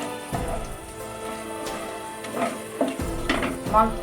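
Sizzling and crackling of whole garam masala spices frying in a hot pan, with scattered pops and a few stirring scrapes, close by and steady.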